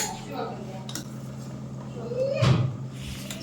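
Large cooking pots and metal vessels clank and clink in a home kitchen, with a louder clatter about two-thirds of the way through over a low steady background hum.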